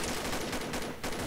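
A FAMAS G2 fires in bursts in Combat Arms, a dense, loud rattle of rapid shots with brief gaps that fills the whole short stretch.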